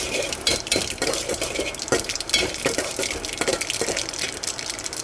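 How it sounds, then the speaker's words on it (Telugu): Mustard seeds, fenugreek seeds and urad dal crackle and pop in hot oil with a steady sizzle, punctuated by sharp clicks as a spoon scrapes the pan. "చూస్తారు కదండి మెంతులు మినపప్పు ఆవాలు పోపు వేగుతుంది"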